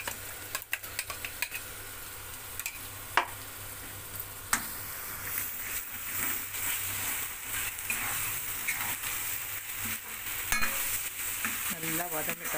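Masala paste for mutton chukka sautés in a pan with peppercorns, giving a steady moderate sizzle with frequent scraping stirs and occasional sharp clicks of a spoon against the pan.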